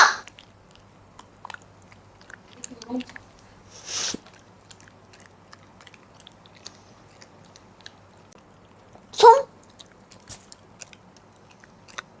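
A dog chewing and crunching food indoors, with a few separated bites and crunches, two of them louder, spread across long quiet stretches, close and fairly sharp.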